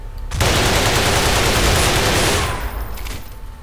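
Loud, rapid automatic gunfire from a weapon in the game Underhell, a dense continuous burst lasting a few seconds before stopping and leaving a fading echo.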